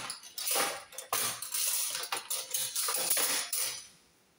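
Metal soup spoons set into a kitchen drawer organiser, a quick series of bright clinks and rattles of metal on metal, close and crisp, fading out at the end.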